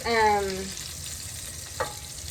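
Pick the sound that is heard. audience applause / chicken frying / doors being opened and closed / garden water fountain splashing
chicken frying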